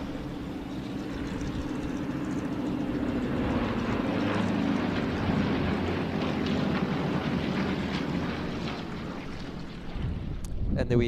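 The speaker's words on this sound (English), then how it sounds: "And there we have the Yak 52 display team." Yak 52 display team aircraft fly past at the Tauranga Airport air show, a continuous engine drone heard through wind noise on the microphone, holding steady and then fading toward the end.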